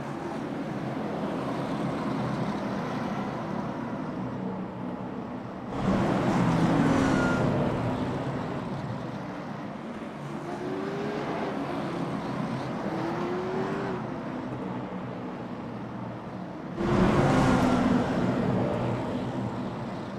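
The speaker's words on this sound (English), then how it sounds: "Everybody trying to get their cars warmed up out here tonight at Iowa Speedway" Late model race cars warming up at Iowa Speedway, a steady broad engine roar from the field with two louder surges as cars pass close by.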